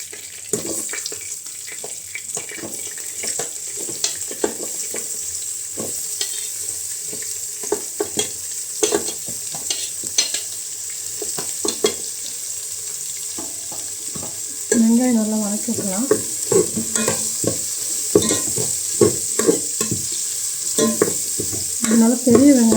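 Onions frying in a pan for a Thai-rice mushroom biryani, a continuous bright sizzle with frequent scraping stir strokes that grow busier and louder midway, heard up close with no talking.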